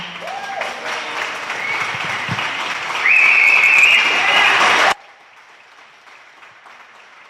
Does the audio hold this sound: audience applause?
yes